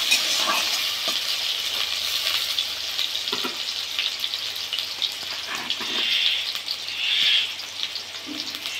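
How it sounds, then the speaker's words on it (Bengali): Potatoes hit hot oil with browned garlic in a pan, giving a loud, close, continuous sizzle and crackle with occasional stirring scrapes and no talking. "এবার আলুটাকে ভেজে নেব।"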